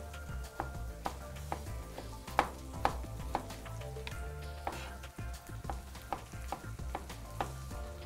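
Tomato chunks frying in a pan with red and green chillies, a low steady sizzle broken by scattered clicks and stirring taps, fairly faint and close.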